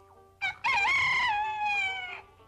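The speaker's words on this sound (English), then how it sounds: "And that, you probably guessed, is a rooster." A rooster crows once, loud and close, in a long harmonic call that rises, holds and then fades, after a brief opening note, with no talking.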